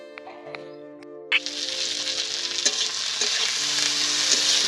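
Food frying loudly in a home kitchen pan, a steady bright sizzle that jumps up abruptly as the food goes in and then continues unbroken, with a few faint clinks underneath.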